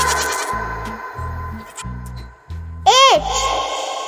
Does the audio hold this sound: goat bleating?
yes